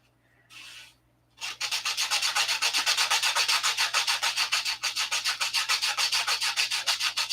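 Rapid, rhythmic back-and-forth sanding strokes on the nose of a model aircraft, loud and close, about five strokes a second after a short opening scrape and pause.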